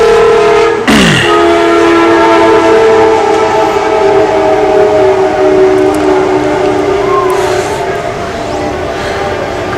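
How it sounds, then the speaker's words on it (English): A train passes near a high school football field, its horn blaring once at the start, then a loud steady rumble of cars rolling by that fades slightly toward the end. "Eastbound, westbound train."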